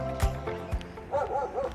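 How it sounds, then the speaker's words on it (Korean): A dog barks a few sharp times nearby, heard outdoors while running along a route after daytime rain, with short whimpering yips between the barks. "개 엄청 짖네"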